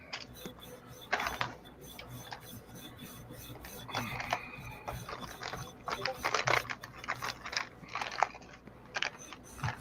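Sandpaper rubbed by hand over a surface, heard as intermittent dry rasping strokes in short bursts, close and fairly quiet against a low background hum.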